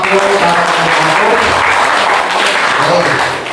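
A Sunday service congregation claps together in a loud, close burst of dense applause, with voices mixed in underneath, tapering off slightly at the very end.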